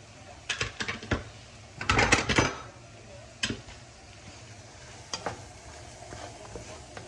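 Iftar food being stirred in a pan, with soft sizzling under scattered scrapes and clinks of a utensil and one louder burst of stirring and rattling, no talk.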